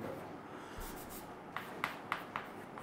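Chalk or marker strokes on a board during a physics lesson on charge-to-mass ratio, a few short scratchy taps and scrapes close by in a quiet room with no talking.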